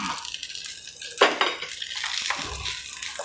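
Cooked pasta tossed into a pan of olive oil, garlic and chilies over low heat, with a sharp metallic clatter of utensil against pan and soft stirring and scraping, close and alone.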